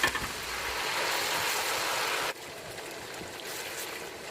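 Water poured from a vessel into 250 g of tomato paste in a cooking pot for red fish rice, a steady broad rushing pour that cuts off abruptly and leaves a quieter, thinner trickle and hiss.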